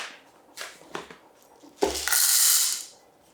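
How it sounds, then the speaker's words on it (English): Coffee beans poured into a grinder for Chemex brewing: a few light rattling clicks, then a short rushing, crackling pour of beans, close and fairly soft. "we're gonna go ahead and toss that right into our grinder"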